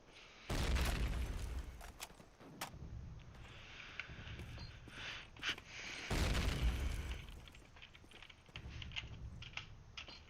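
A grenade explodes inside the church on the Dawnville map during a competitive shooter match, giving two heavy booms about five seconds apart with rattling, clicky game sounds in between and no talk.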